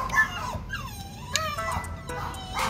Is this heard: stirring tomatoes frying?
no